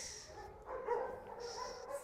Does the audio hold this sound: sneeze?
no